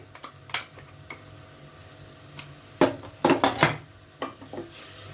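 Ground masala paste for chicken rassa sizzles softly in oil in a kadhai while a spoon scrapes and clinks against the pan in scattered bursts, fairly quiet and without talk.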